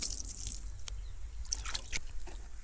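Water trickles onto the soil of a pot with freshly sown seeds, a steady soft pour with a few faint drips, fairly quiet and with no voices.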